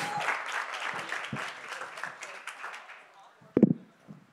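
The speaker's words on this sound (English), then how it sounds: "let's give a big round of applause" Audience applause at a press conference after the Grammys, a fairly soft spread of clapping over the first few seconds that fades out, followed by a couple of louder close knocks near the end.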